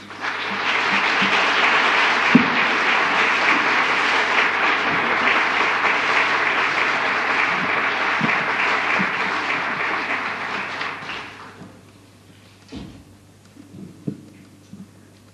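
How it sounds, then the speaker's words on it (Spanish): A large lecture audience applauds steadily for about ten seconds, welcoming a speaker, before the clapping thins out and fades, leaving a few scattered claps. "les pido realmente un caluroso aplauso de bienvenida"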